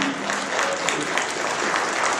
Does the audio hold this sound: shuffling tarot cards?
no